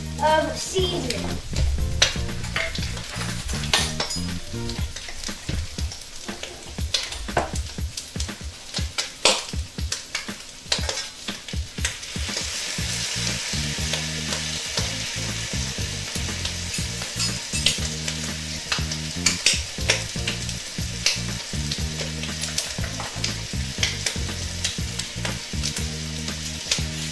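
Garlic and seasoning fry for Cajun shrimp fried rice, giving a loud, constant sizzle close by with busy stirring and scraping against the pan; the crackle thickens partway through.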